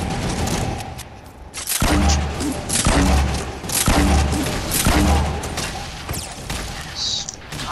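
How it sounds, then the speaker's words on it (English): Grenade launcher explosions in the video game Fortnite: a run of heavy booms and thuds at a steady rhythm with gunfire-like bursts, with voices talking over the blasts. "Grenade launcher."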